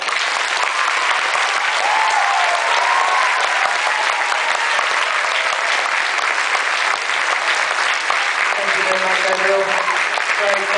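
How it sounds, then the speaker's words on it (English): Sustained, loud applause from a graduation ceremony crowd, thick and continuous, with faint voices and a few tonal sounds like music or cheering surfacing near the end. "Please give a round of applause for everyone"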